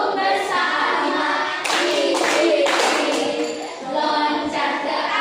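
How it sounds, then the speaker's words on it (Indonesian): A combined class of third- and fourth-grade schoolchildren claps together in several rhythmic bursts. Children's voices and a teacher's voice mix in. "Tepuk bersama."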